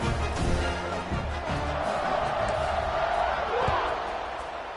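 A stadium crowd roars steadily at a college football game between Kent State and Buffalo as the kickoff unit lines up, the cheering dense and sustained beneath a commentator's voice throughout.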